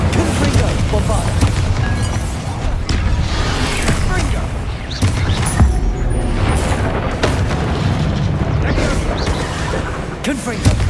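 Spell blasts from Confringo and Bombarda in Hogwarts Legacy boom and burst repeatedly, a dense run of loud explosive impacts layered over game sound effects and battle noise throughout, with a voice speaking over them.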